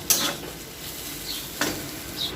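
Paneer filling with cashews frying in a pan, stirred in two or three distinct scraping strokes over a soft, steady sizzle, close and clear.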